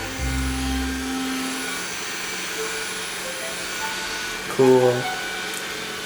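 A robot vacuum cleaner runs at home with a steady whirring hum and faint tonal whines, while a brief spoken word and a short louder burst come near the end.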